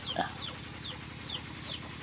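Young chickens about two months old crowd a nursery pen on a Thai farm, giving a brief clucking call near the start followed by soft, repeated high chirps that stay steady and fairly quiet throughout.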